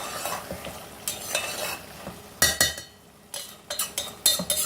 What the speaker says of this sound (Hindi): इसे थोड़ा भुना लेंगे